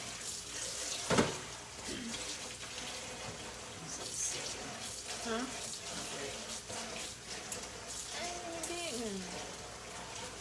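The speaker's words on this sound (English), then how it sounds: "I'm gonna wash it first." Tap water runs steadily while a utensil is rinsed under it in a home kitchen during vegan sandwich prep, with voices and cooking clatter mixed in.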